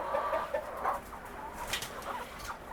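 Easter egger and olive egger hens cluck softly nearby, several short murmuring calls scattered across the clip with light rustling around them.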